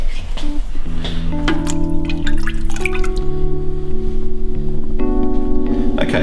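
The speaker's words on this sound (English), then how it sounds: "just give it a gentle little stir" Homebrew beer wort from a Mangrove Jacks Copper Tun starter kit is stirred gently in its fermenter, with soft liquid swishes and drips heard close over steady tonal background music.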